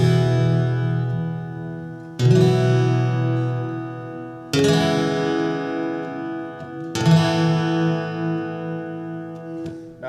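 Acoustic guitar strums a I-V-vi-IV progression in an alternate tuning, four ringing chords about every 2.3 seconds, each left to sustain and decay, played alone with no voices.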